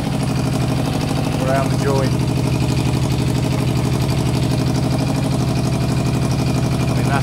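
Yamaha Fazer 600 motorcycle engine running with a leaky exhaust joint, a loud steady rumble close by with a few brief pops, under someone talking.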